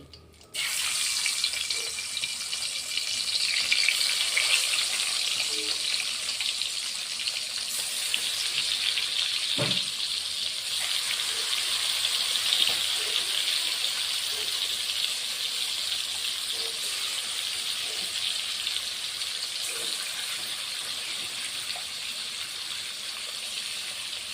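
Fish pieces, likely katla, fry in hot oil in a pan on a low flame, producing a loud, continuous close-up sizzle that holds steady for over twenty seconds with small crackles throughout.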